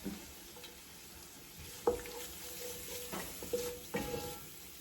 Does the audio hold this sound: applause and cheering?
no